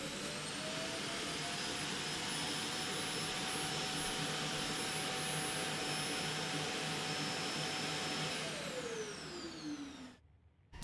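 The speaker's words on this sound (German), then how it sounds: "So, der Staubsauger ist auch entleert." A vacuum cleaner runs with a steady loud whirring roar and a sustained high whine, then winds down with a falling pitch and cuts off near the end.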